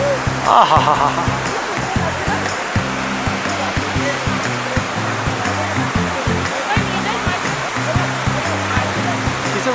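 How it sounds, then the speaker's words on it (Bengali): The Vasudhara waterfall pours down close by in a loud, continuous rush of falling water, with a voice sounding over the steady roar. "কাছাকাছি আসতেই ঝর্নার জল বেশ গায়ে পড়ছে"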